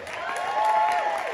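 A festival audience at a country music show applauding after a performance, a wash of clapping with a few cheers, moderately loud and steady, with tonal ringing over it.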